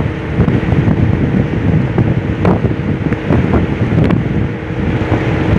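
A large wooden boat with a V10 engine running on open water gives off a steady low rumble, blended with heavy wind buffeting and splashing water, constant throughout with no voices.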